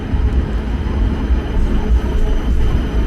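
A regional passenger train running in Poland rumbles steadily and close, with a constant low roar of wheels and carriage throughout and no talk.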